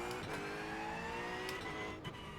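Porsche 911 GT3 R (992) race car engine in iRacing, a steady, fairly quiet high-revving drone with shifting pitch and a brief dip near the end.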